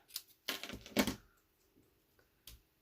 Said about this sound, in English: all I'm going to do is just kind of snip the edge